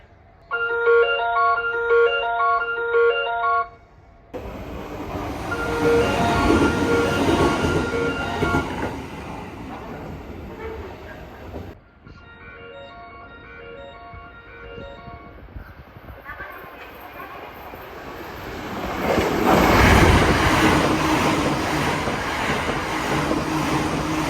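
A train stands at a platform on Japan's Shinonoi Line in Nagano with rumbling and station hubbub, a chiming melody and an electronic announcement-like tone sounding in bursts.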